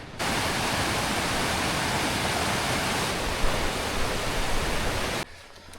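A river rushes through a deep gorge, a dense, steady roar of flowing water heard from above that cuts off abruptly near the end, leaving quieter background.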